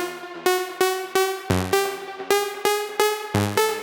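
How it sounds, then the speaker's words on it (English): Synth loop from a minimal bass sample pack: a repeating chain of bright, plucky stabs at a steady quick rhythm, with a couple of deeper bass-heavy hits, loud and upfront with no talk. "which has this synth loop from the sample pack that sounds like this."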